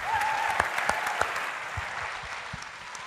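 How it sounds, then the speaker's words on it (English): A conference audience applauding a panel steadily, with a few sharper individual claps standing out before the clapping gradually thins and fades. "give us one last round of applause for the panel"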